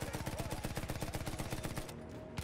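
Rapid, sustained gunfire aimed at an airship in the Battlefield 1 game, a dense rhythmic burst of shots running for about two seconds before cutting off, loud and close.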